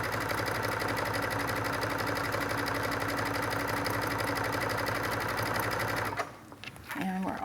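A sewing machine hums steadily for about six seconds stitching trim onto a bridal veil, then stops abruptly, leaving quieter handling noises and a brief soft thump near the end.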